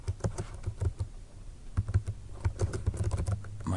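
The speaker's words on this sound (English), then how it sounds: "I'm going to type in" Rapid typing on a computer keyboard, a close run of crisp key clicks in uneven bursts with brief pauses, heard alone.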